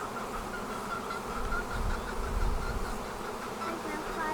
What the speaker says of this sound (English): We have to follow these bees, Quinn.